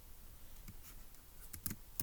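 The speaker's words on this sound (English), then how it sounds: "So let's go ahead and type that up" Keyboard typing while solving a Turing Machine logic puzzle, heard as a few sparse, close clicks and taps, with a quick cluster of keystrokes near the end and no talking.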